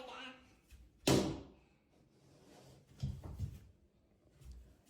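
A door in a bedroom that won't open is tried repeatedly: a sharp thump and rattle, then a few softer knocks and jiggles a couple of seconds later, with people talking throughout.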